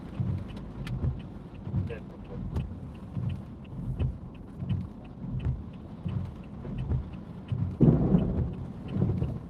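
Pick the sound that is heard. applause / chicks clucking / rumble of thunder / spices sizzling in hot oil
rumble of thunder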